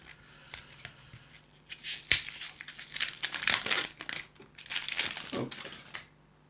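Plastic wrapper of a Final Fantasy TCG Ultimate starter pack crinkles and tears as it is opened carefully by hand, a close, busy run of rustling crackles with sharper bursts, nothing spoken over it.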